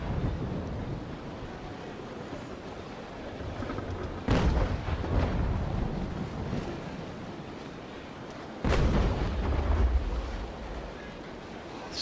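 Naval Action 2 ship cannons firing carronades in two heavy booming bursts with rumbling tails, set over steady wind and ocean wash around the wooden sailing ship.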